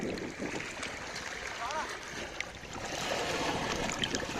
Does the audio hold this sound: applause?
no